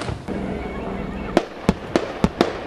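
Attack helicopter at a military firepower demonstration firing S-8 rockets and a 30 mm cannon: a steady roar gives way to a rapid series of sharp, loud bangs about a third of a second apart, with a crowd or commentary voice beneath.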